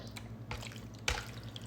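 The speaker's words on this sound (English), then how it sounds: "So what I did was pour the olive oil on it, and I'm gonna give it a good mix up" Liver being mixed by hand with olive oil gives a few soft, wet squishes over a low background hum, close and fairly quiet.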